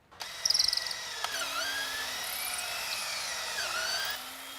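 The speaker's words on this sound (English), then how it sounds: "The 3 mounting holes will be drilled with the 3/16 drill bit." A power drill boring three small 3/16-inch mounting holes for a Lenco trim tab and switch install, whining at steady high pitch, with short spin-ups and pitch dips as the bit bites, close and alone.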